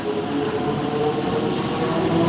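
A train runs close and loud in a continuous rumble with faint steady squealing tones over the wheel noise, and no one talks.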